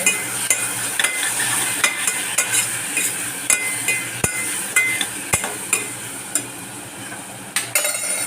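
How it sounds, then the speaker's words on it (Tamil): A spoon stirs ginger-garlic paste frying in oil in a pan, scraping in steady regular strokes with small metallic clinks over a constant bright sizzle, close and loud. "நல்லா கிண்டி வச்சுக்கோங்க"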